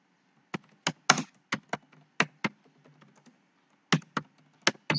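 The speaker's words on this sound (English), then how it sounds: "I'm typing it here." Separate keystrokes on a computer keyboard while a full name and college name are entered for a webinar registration, coming as irregular clustered clicks with short pauses, close and fairly quiet, with no talking.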